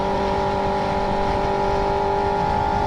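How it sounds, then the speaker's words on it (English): A motorcycle engine hums steadily at night during clutchless shifting, a constant tonal whine with a rough low rumble beneath, sustained evenly and fairly close without any talking. "How you guys feel about my clutchless shifting?"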